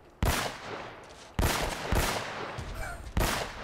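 Several loud, sharp gunshots spaced about a second apart ring out in a firefight from the video game Uncharted: Drake's Fortune, each with a short echoing tail.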